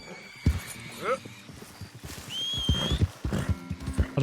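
Horse in Red Dead Redemption II giving a clear whinny, with rising neighs and snorts over scattered hoof beats close by, while a voice talks alongside.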